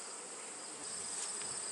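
A swarm of honeybees buzzing all around at a queen supplier's apiary, a dense high steady hum that swells slightly midway, short and continuous with no talk.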